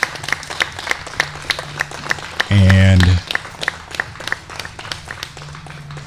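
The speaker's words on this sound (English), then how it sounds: "nice round of applause from the fans here at Colburn Park" Baseball fans applauding at Colburn Park during a Jamestown Jammers game, a light round of scattered claps from the stands that runs under a commentator's talk, with a brief loud horn-like tone partway through.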